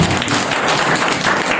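A church congregation claps together during a Nepali sermon, a dense, steady patter of many hands filling the short moment without a break.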